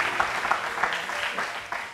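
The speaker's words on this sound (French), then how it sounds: "Franchement, applaudissons encore, son travail est remarquable." Audience applause for a performer on a TV show, a steady patter of clapping at moderate distance, short and fairly soft.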